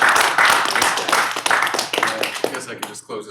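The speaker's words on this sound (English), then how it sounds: "we can give a round of applause" An audience at an astrophysics talk gives a round of applause, with dense continuous clapping that rises and falls while a voice speaks over it.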